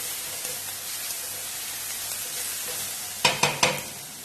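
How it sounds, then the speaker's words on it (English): Crushed garlic sizzles softly in a pan, then a spoon scrapes and stirs it with three or four sharp, close strokes near the end. "I'm going to give that a stir"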